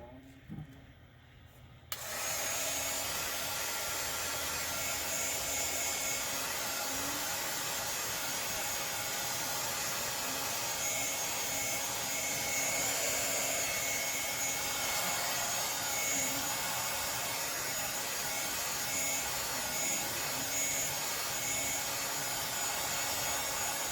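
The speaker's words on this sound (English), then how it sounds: "so let's heat it with the heat gun" A heat gun switches on with a click and then blows continuously, a steady loud whooshing roar held close while heating resin on a peacock glitter tumbler, with faint rubbing underneath.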